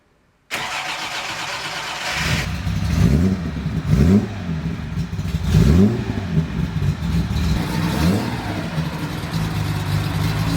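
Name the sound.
car engine revving after priming the fuel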